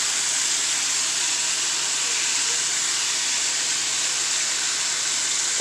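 Chicken wings frying in hot grease in a home fryer, a steady, dense sizzling hiss held close and loud throughout.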